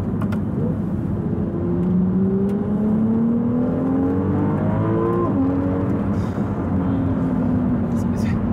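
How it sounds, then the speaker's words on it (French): A Ferrari 296 GTB engine revs and accelerates through rising gear pulls, loud and close, with sharp crackling pops from the exhaust. "Les petits retours à l'échappement, je trouve ça génial."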